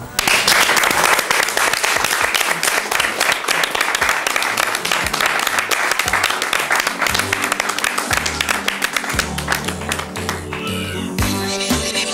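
Sustained audience applause in a hall, dense and loud clapping that carries on evenly for the whole stretch, slightly thinning toward the end.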